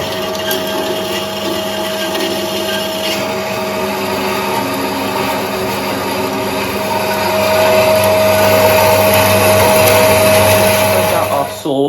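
A metal lathe cuts into a piece of metal stock, a continuous loud machining whine with a steady tonal hum that swells and grows harsher partway through, with no talk heard.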